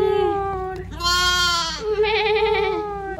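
A sheep on a countryside farm gives long, loud, wavering bleats close by, two drawn-out calls in succession.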